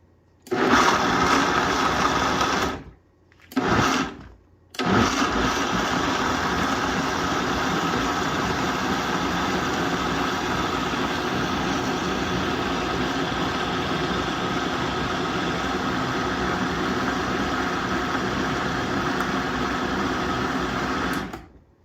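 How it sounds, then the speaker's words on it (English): A blender runs steadily, whirring loud and close while it purées an asparagus, spinach and chickpea soup. It stops briefly twice near the start, then blends continuously to the end. "we are going to blend this until it becomes nice and creamy"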